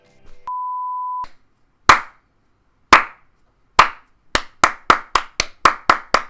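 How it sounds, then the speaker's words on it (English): A short electronic beep, then loud, close single hand claps that start slow and steadily speed up into a quicker rhythm, with no talking. "It's clapping now for the lols."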